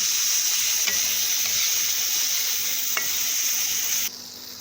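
Chopped tomato hits small potatoes frying in oil in a pan for aloo dum, producing a loud, steady close sizzle that drops sharply near the end, with no voice.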